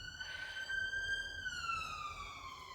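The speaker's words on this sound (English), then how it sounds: "it's sirens." Distant police siren wailing faintly, a thin high tone gliding slowly in pitch over low background rumble, with no voices.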